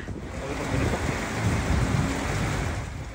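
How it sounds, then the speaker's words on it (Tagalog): Strong Super Typhoon Pepito wind in Baguio City roars steadily and continuously, buffeting the microphone with a dense rushing noise. "malakas na hampas ng hangin ang naranasan sa Baguio City sa kasagsagan ng Super Typhoon Pepito"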